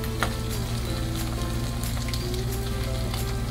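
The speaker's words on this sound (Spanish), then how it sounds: "Ahora vamos a echar nuestro chicharrón a sofreír, como lo van viendo." Homemade chicharrones fry over high heat in a pan, producing a dense, continuous loud sizzle and crackle with no talking.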